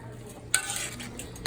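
Vegetables and garlic stirred in a hot pan for shepherd's pie, a short close scraping stir that sets off a brief burst of sizzling, with no talking.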